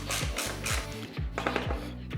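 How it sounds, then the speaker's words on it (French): A BMW S1000RR racing screen being screwed down with a ratcheting tool, a steady run of close, rapid clicking ratchet strokes repeating in short bursts, with no talk. "je vais tout visser correctement"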